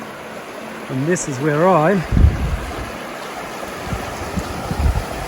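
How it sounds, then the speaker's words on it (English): Little Bear Canyon creek flowing into the Gila River, a steady broadband rush of moving water running the whole time beneath a voice, with wind gusts buffeting the microphone. "This is Little Bear Canyon. And it is flowing into the Gila River."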